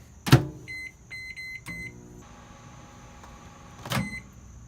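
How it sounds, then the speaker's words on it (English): A microwave oven is started to heat soft plastic lure mix. A door thuds shut, a quick string of keypad beeps follows, and then a low, steady hum runs before another sharp clunk near the end. "I'm gonna go ahead and stick that in the microwave."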